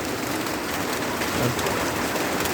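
Rain falling steadily over a cattle farm in Maha Sarakham, Thailand, a thick, unbroken rushing hiss close by, holding at a constant level with a faint low thump partway through.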